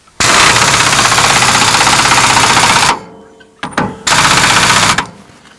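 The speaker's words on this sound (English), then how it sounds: "I'm just running it up with the impact to get it close." An impact wrench runs bolts up on a power steering box, hammering loudly in a long close burst of about three seconds, then a short pause with clicks and a second one-second rattling burst.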